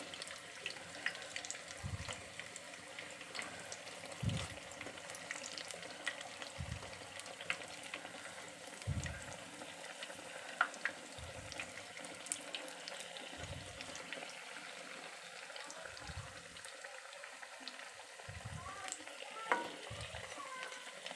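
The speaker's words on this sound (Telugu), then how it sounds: "ఇలా డీప్ ఫ్రై చేసుకొని కొంచెం బ్రౌన్ కలర్ వచ్చే వరకు, గోల్డెన్ బ్రౌన్ కలర్ వచ్చే వరకు డీప్ ఫ్రై చేసుకోవాలి" Potato bajji deep-fry in hot oil with a steady, soft bubbling sizzle, punctuated by regular low knocks roughly every two seconds as the fritters are turned, heard up close with no voices.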